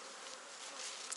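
Honeybees buzz steadily in an open hive during a spring split onto an overwintered queen, a soft, even, continuous hum from many insects close by with no speech.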